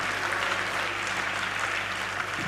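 An audience at a university task team launch event applauds steadily, a dense, continuous wash of clapping heard somewhat distant with a low steady hum underneath.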